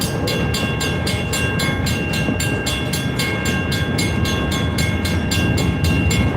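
An Escanaba & Lake Superior Railroad train, locomotives 501 and 402, moves cars along the track with a steady, continuous rumble and a regular clicking rhythm, fairly loud and close, with no voices.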